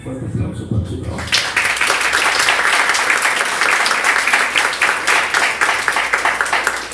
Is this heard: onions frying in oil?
no